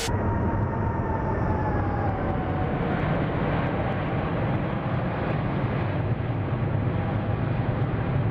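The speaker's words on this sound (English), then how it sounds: "It does sound pretty damn good, this airplane." Steady broadband roar of a ToLiss A340-600 airliner's engines in flight within a flight simulator, a continuous even drone with a faint falling whine, no talk over it.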